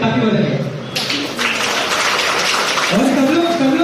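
An audience claps at a summer camp dance academy showdown, a broad wash of applause rising after the first second and continuing under a speaker's voice.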